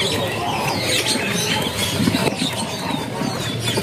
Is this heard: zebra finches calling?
yes